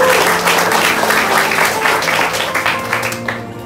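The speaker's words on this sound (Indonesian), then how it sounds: "Tepuk tangan untuk mereka." An audience at a community cultural event in a rural Sintang village applauds, a loud, dense burst of clapping that gradually thins and fades toward the end.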